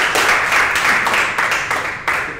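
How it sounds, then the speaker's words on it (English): An audience at a Shotokan karate dojo applauds students, with a few seconds of close, steady clapping in short rhythmic bursts. "Give them a big round of applause."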